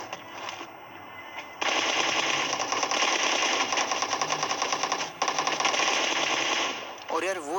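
Rapid automatic gunfire rattles in a PUBG match at Pochinki, long sustained bursts of close, dense shots with a short pause midway before firing resumes.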